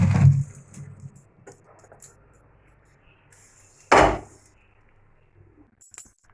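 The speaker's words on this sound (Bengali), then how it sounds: "কড়াটা আমরা বসিয়ে দিচ্ছি।" A metal kadai set down on a gas stove in a home kitchen, a single loud clanking knock with a brief rattle near the end of an otherwise quiet stretch with faint handling noises.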